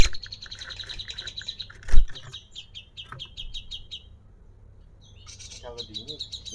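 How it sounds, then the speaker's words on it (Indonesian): A male srikantil songbird sings repeated bright, high chirping phrases at close range, with a short loud knock partway through and the song picking up again after a brief pause. "Ini yang srikantil yang jantan ya."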